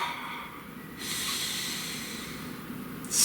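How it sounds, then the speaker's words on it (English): One long, slow deep breath taken close to the mic, a soft airy hiss that swells and holds for about two seconds in a quiet room. "Please take a nice deep breath."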